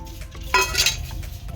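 A metal plate clinks and scrapes as it is picked up and handled, a brief clatter in the middle of a quiet outdoor stretch with faint background noise.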